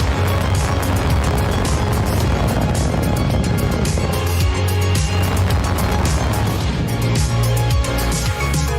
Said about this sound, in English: Ignition. Liftoff. Falcon 9 has cleared the tower.